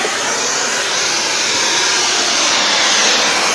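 Gas torch roaring steadily up close while heating a welded 10x10 square steel tube louver to straighten it, a constant loud hiss with no pauses.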